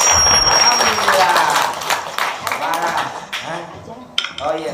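Audience applause breaks out at a religious talk, a dense broadband clatter strongest in the opening seconds, then fading into scattered claps as a voice speaks over it.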